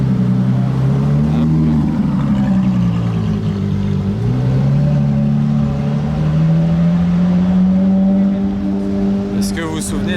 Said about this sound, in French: Regardez là le petit combo sympa qui approche à la Veyron, et là la Ferrari coupée de Ferrari SF Côte d'Azur.